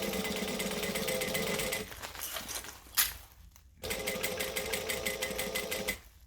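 Sewing machine putting a stitch through stabilizer on a strap, a rapid buzzing mechanical chatter that runs steadily, pauses with some handling noise and a click, then resumes at the same fast pace.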